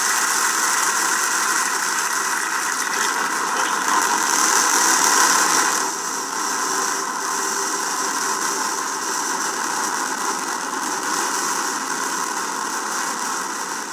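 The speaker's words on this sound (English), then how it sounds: "Liftoff of Falcon 9, carrying the JCSAT-18 KACIFIC-1 satellite to geostationary transfer orbit." A Falcon 9 rocket launch in the Spaceflight Simulator video game, its engine producing a steady, loud rumbling roar with a hissing upper layer that holds constant and dips slightly partway through, no voices.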